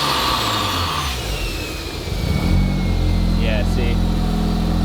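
A rotary-engined Corvette idles loudly nearby during ECU tuning, then the engine note climbs and holds at a heavier, steadier drone, with someone speaking briefly over it.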